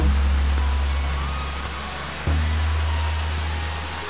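Dunumala Ella waterfall in Sri Lanka pours a steady, close, broadband roar of rushing water with no voices, swollen by the rainy season.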